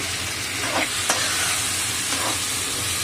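Green peas join tomatoes frying in a pan for a rohu fish curry, giving a steady loud sizzle with a few sharp stirring scrapes and clinks over the hiss.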